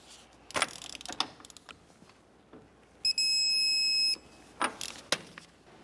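A digital torque wrench tightening the axle nut on a 2004-2006 Scion xB gives one steady, high-pitched beep of about a second, with clanks and ratcheting of the tool before and after it.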